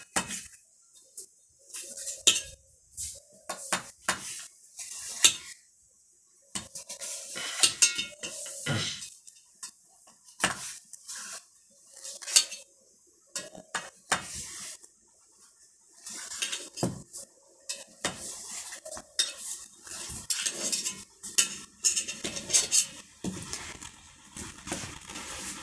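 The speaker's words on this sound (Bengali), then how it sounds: "আমি এবার পিস পিস করে কেটে নেব" A cooked, cooled dish of red masoor lentils and egg is cut into pieces, with repeated sharp knife taps and clinks on a plate coming in clustered bursts separated by brief quiet pauses.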